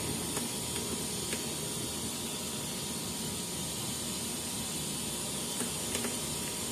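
Faint, steady whirring hiss of a lab machine, a centrifuge spinning at 15,000 RPM, with light mechanical ticks scattered through; quiet and continuous, no talking.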